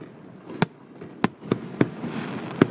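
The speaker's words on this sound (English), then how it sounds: "The fireworks." Fireworks go off outdoors in five sharp, loud bangs spaced irregularly over a few seconds, with a low crackling rumble and smoke-filled ambience between blasts.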